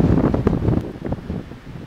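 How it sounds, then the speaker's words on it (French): Gusting wind buffets the microphone outdoors, a loud, continuous low rumble with uneven surges, no speech over it. "ce putain de vent!"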